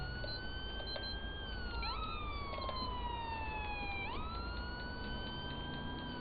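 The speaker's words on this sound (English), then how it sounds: "We got somebody's siren still going off." A police siren in GTA 5 wails continuously, its pitch sweeping up and down in long smooth cycles over a low background rumble.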